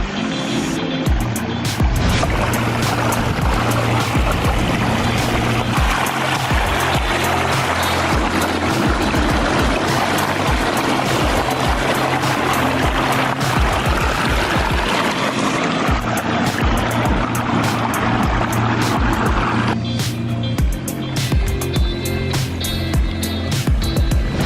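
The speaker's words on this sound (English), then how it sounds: "Do you hear the wind?" Strong wind roars steadily outdoors beside a backyard pond, a loud continuous broadband rush with gusting surges throughout and no talking.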